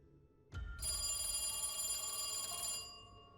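Sound effect of an old telephone bell ringing during a horror tabletop role-playing session: a sharp strike, then a continuous bright jangling ring lasting about two seconds before cutting off, quiet and alone over faint rumble.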